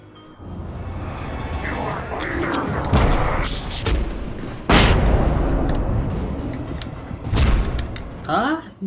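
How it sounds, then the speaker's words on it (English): Gunshots in the Alan Wake video game boom in several heavy, loud blasts spread over a few seconds amid rumbling game noise, with speech mixed in. "Gunshots?"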